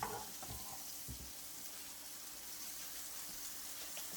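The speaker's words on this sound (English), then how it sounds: "Look at that sizzle." Chicken sizzles steadily in a frying pan, a soft, constant crackling hiss close by with a few faint clinks at the start and no talking.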